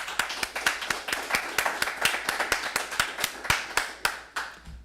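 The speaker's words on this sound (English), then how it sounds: "So a round of applause." At a graduation ceremony for executive protection training, a small audience claps in a sparse, distinct rhythm of separate hand claps that slows and thins toward the end.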